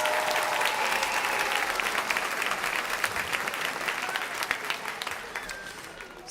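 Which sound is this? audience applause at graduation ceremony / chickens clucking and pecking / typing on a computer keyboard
audience applause at graduation ceremony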